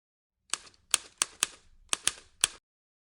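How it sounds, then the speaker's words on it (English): Keyboard typing on a Windows computer: about seven crisp, separate key clicks in an uneven rhythm, close and clear against silence. "type this in the address bar"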